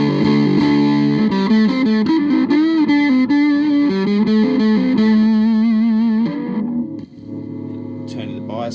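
Electric guitar played through a Retro-electric Teddy fuzz pedal, heavily distorted and grating, with sustained chords and wavering notes filling about six seconds before thinning out into a quieter, sparser tail.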